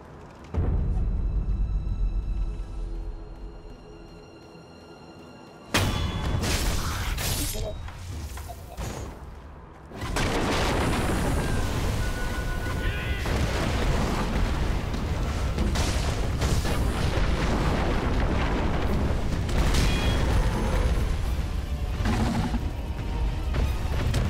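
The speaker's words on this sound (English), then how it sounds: "firecrackers." Firecrackers prosthetic tool from Sekiro: Shadows Die Twice bursts in loud, crackling pops and sharp cracks that erupt suddenly, then continue amid dense, roaring combat noise and booms.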